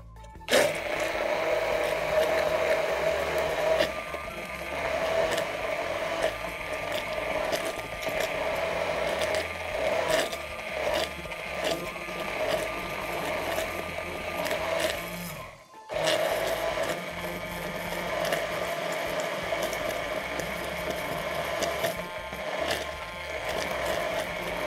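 A food processor whirs steadily, blending basil leaves, parsley, mustard and a little water, loud and continuous with a brief dip midway before the motor resumes.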